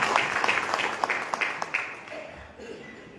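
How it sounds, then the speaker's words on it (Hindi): Applause at an indoor business meeting, a brief burst of scattered hand clapping from a modest crowd that fades out within a few seconds. "जोरदार ताली"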